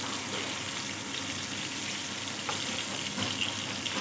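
Fish frying in hot oil in a pan while being turned, a steady soft crackling sizzle with faint scraping, close and low in level with no talk.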